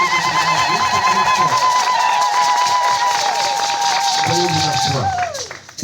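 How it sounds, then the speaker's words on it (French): A church congregation at Sainte-Monique in Dapaong claps together, a steady crowd of hands running under sung or held voices that carry on until the final second. "Nous applaudissons pour le Seigneur."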